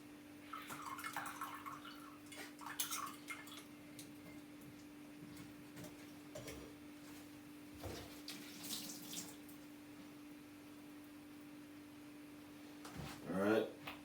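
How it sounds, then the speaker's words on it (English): A homemade diet drink is strained through a strainer, giving faint intermittent trickles and splashes of liquid over a low steady hum, with a louder pour near the end. "I'm just straining it off right now"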